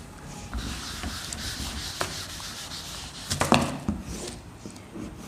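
A board is rubbed clean of chalk or marker writing during a class 5 maths lesson on fractions, giving a steady, fairly close scraping swish with a slightly louder burst of strokes near the middle.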